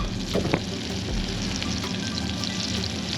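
Fish frying in a pan while cooking on Al Halah Island, Abu Dhabi, a steady broadband sizzle running throughout at moderate, close level, with occasional faint stirring clicks.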